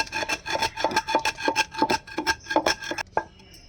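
Rhythmic rasping and grinding of a stone pestle working against a stone mortar, pounding gongura and red chilli chutney, steady repeated strokes up close, with no talking.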